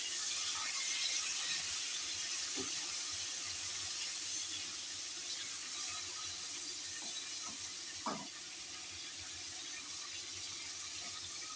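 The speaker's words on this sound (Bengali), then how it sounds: "এবার আমি এটা নাড়তে থাকবো, একটু কড়া করে ভেজে নেব।" Hilsa fish heads fry in a pan while being stirred, giving a steady close sizzling hiss with a few scraping clicks from the utensil. No one speaks.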